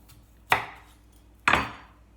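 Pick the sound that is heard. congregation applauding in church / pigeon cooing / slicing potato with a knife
slicing potato with a knife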